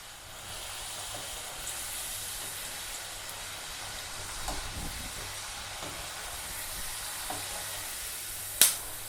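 Potato finger chips deep frying in hot oil give a steady, even hiss that runs through the whole stretch, with a brief sharper crackle near the end and no voices.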